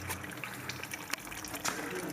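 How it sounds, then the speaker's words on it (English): Coolant draining out of the water pump area on a Mitsubishi Diamante 3.5L V6 during a timing belt job, a steady faint trickle and splash of liquid, close and continuous with small spikes. "we're just letting some of the coolant drain out before we pull it all the way off"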